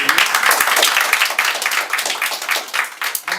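An audience at a stage play applauds the performers, a burst of dense clapping that thins and fades unevenly over a few seconds.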